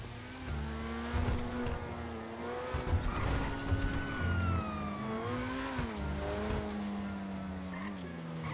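A car driving in GTA, with a revving engine whose pitch rises and falls through gear changes, plus tire squeal and skids, heard up close under a low background rumble.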